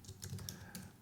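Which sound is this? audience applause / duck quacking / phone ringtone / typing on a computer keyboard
typing on a computer keyboard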